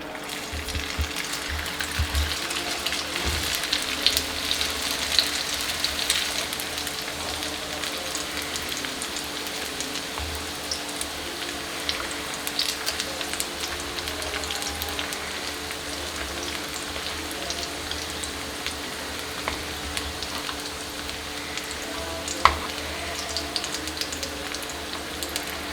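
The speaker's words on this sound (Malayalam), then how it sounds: "ചൂടായ എണ്ണയിലിട്ട് ഫ്രൈ ചെയ്യാം" Egg kabab rolls fry in hot oil with a steady, dense sizzle and crackle that runs unbroken at an even level, with a few brief louder pops and no one speaking.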